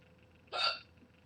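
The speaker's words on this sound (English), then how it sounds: "That apparently gives my daughter hiccups." Daughter gives a single short, sharp hiccup, close and clear against quiet background.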